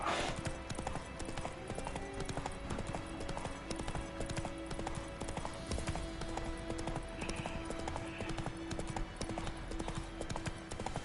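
Horse hooves clip-clop steadily and continuously in the Witcher 3 video game, close and fairly loud, with a faint whinny and game music and ambience running underneath.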